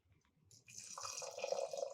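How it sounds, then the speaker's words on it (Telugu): Water for sweet rice pongal is poured into a cooking pot, a few faint drips and then a steady, quiet splashing pour that grows slightly fuller as it fills. "1కి 2 నీళ్ళు పోసి స్టవ్ మీద పెట్టేద్దాం."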